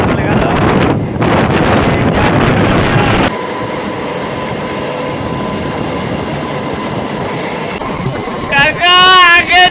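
Local trains running side by side, racing each other, with a loud rushing rumble and wind buffeting on the microphone, close to the recorder, then a steadier hum of the moving carriage.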